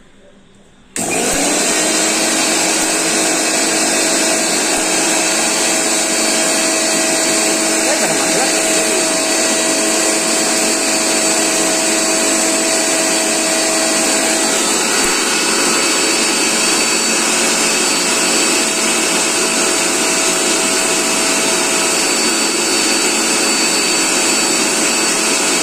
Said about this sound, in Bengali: পলাশ ভাই 1 মিনিট এটার একটানা চালু রাখছেন।